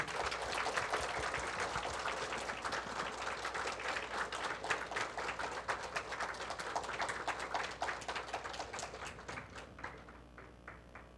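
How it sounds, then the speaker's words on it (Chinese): Warm audience applause welcoming three teachers at a lecture, full dense clapping that holds steady and then thins to a few scattered claps as it dies away. "我们再以热烈的掌声欢迎三位老师。"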